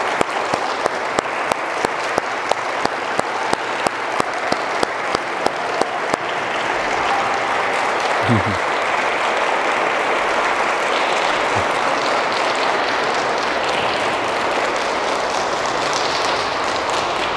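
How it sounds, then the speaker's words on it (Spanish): A church congregation claps at a quinceañera mass, starting with several sharp, evenly spaced claps that swell into sustained, fairly loud applause filling the room and continuing to the end. "Pues vamos a darle un fuerte aplauso a Ángela."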